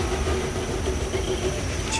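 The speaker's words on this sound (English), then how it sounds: "There's a little train that runs round the campsite and round by the lake" A small tourist train passing round a campsite by a lake in the Loire Valley, France, rumbles steadily nearby with a low hum and faint hiss, a continuous rolling drone.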